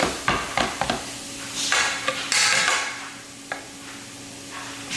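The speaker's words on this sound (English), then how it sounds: "So we're gonna just brown the turkey." Ground turkey browning in a pan, with a spatula scraping and clacking against the cookware in bursts over a steady low sizzle, close and fairly loud.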